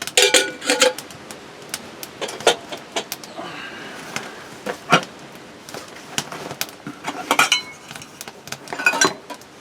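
Metal camp cups, a kettle and a spork clink and clatter in scattered sharp bursts as gear is pulled from a backpack outdoors, close and irregular with quiet gaps between.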